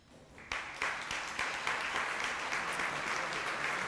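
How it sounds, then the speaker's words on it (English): A hall of fame induction audience breaks into sustained applause, the dense clapping swelling after a quiet start and holding steady at close range with no talk over it. "if you could please stand so that we can applaud your achievements together"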